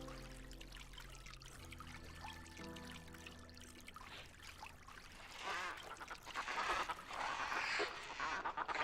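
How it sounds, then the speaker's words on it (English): Ducks quack in a video game, starting over a quiet ambient bed and growing louder and busier in the second half, with trickling, pouring water-like sounds mixed in. "They're either ducks"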